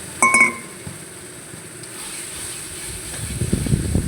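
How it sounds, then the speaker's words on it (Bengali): Ground bean paste poured into a hot kadai over low to medium flame: a brief sharp clatter, a soft steady hiss, then rising crackling sizzle near the end. "পুরোটা কড়াইতে ঢেলে দিলাম"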